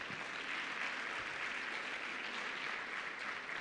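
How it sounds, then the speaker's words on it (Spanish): Sustained applause from a church congregation at a Sunday service, steady and dense throughout with no talk over it. "fuertes aplausos, por favor."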